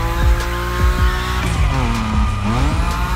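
A Nissan Nismo drifts in The Crew Motorfest game, engine revving in rising and falling sweeps while tires squeal in long sliding whines, loud and close throughout.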